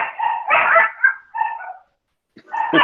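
Several dogs bark out of a window in a quick, uneven run of loud, close barks and yips, with a short silent gap before a final burst.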